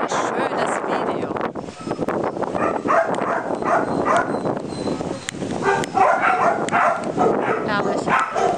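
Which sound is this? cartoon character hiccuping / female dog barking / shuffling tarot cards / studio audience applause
female dog barking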